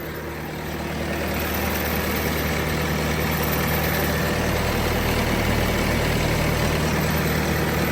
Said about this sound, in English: Engine runs clean, no blow-by.